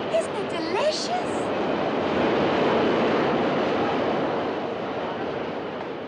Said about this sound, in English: Oh, do you feel the breeze from the subway?